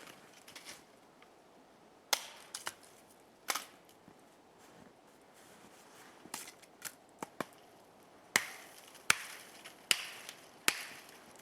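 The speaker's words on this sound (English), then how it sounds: "let's cut up some wood" A Condor Mini Duku chops wood outdoors in snow, with sharp, irregular impacts that come closer together and get louder toward the end, close by and with no talking.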